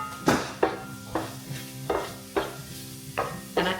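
Oyster mushrooms with taco seasoning are sautéed in a pan, with a soft sizzle under repeated scraping stirs from a utensil about every half second, close and clear; no talk.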